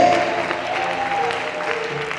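A church congregation applauding, with a steady wash of clapping from many hands throughout, mixed with faint sustained musical tones and some crowd murmur.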